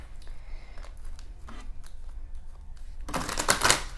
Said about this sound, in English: that's a beautiful shuffle